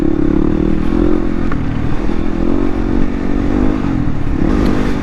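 A 2016 Yamaha WR250R motorcycle is ridden on the road, its engine droning steadily and loud up close under wind rush, with no talking.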